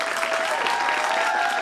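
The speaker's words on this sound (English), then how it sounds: "so big round of applause." A round of applause for a school quiz team after a game round, steady, dense clapping from an audience lasting throughout, loud and close with a faint tone running beneath it.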